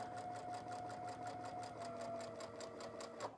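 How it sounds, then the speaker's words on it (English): A sewing machine chain-pieces quilt sections, running in a continuous rapid, even whir from start to finish with a slight change just before it stops. "place the seam tape straight into your needle, and that will act as a guide for you to chain piece these sections of your quilt"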